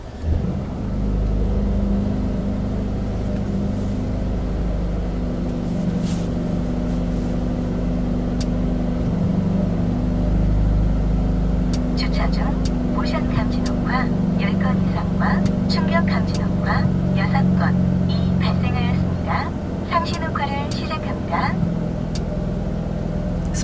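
Muffled exhaust and engine drone of a Mercedes-AMG A35 4Matic sedan, heard from inside the cabin while driving in Sport Plus mode, a steady low hum that stays under a voice talking throughout.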